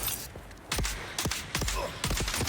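Sharp gunshots from a Dune: Awakening firefight, four or five cracks spaced about half a second apart over a dull ambient background, with no talk.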